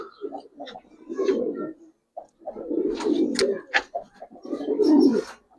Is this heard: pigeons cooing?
yes